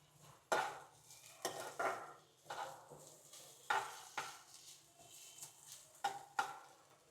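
Curry leaves fry in a pan for a tomato masala oats dish, giving crackling sizzles and repeated sharp stirring clinks of a utensil against the pan at a moderate, uneven rhythm.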